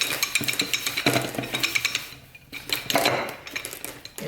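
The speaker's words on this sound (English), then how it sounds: "And you can hear it hit metal on metal." A metal hub seats into a TH400 transmission forward drum, producing a run of sharp metal-on-metal clinks and taps, close and fairly quiet, with a short pause midway.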